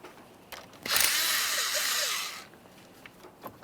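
A power tool whirs for about one and a half seconds, loosening the 10mm terminal nut on a 2015–2020 Ford F-150 battery. Quiet handling clicks come before and after the burst, close up and with no talking.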